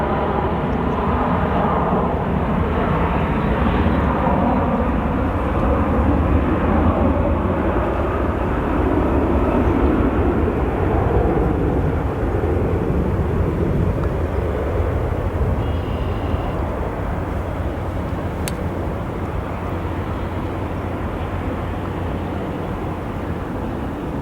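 A jet airliner at O'Hare International Airport roars steadily and loudly at a distance, a broad continuous rumble that slowly eases over the whole stretch.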